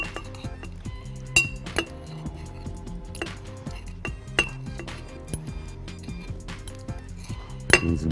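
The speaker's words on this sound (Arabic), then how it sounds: "هننزل بالكريز" Fresh cherries are dropped into a glass while a cherry mojito is made, producing a series of sharp glassy clinks and knocks at irregular intervals, close and fairly quiet, with no talking.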